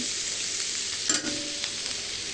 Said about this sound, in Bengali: ডাল, এই যে ডাল রান্না করছি